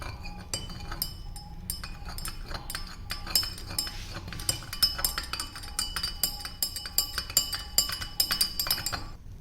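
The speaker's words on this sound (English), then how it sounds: "So I am just adding and then just mixing it with the help of a glass rod." A glass rod stirs salt into water in a glass beaker, giving a steady run of light, rapid clinks and taps against the glass, close and clear with no talking.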